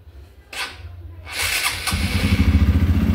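A 2013 Honda Bros motorcycle fitted with a Honda Biz exhaust starts up with a thump after some handling noise, then settles into a loud, steady, throbbing idle close by.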